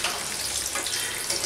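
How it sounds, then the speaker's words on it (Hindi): Cheese potato balls deep-frying in hot oil give a steady, dense sizzle and bubbling that carries evenly through the short stretch, close and unbroken, with no voices over it. "ब्राउन होने तक इस तेल में रखेंगे।"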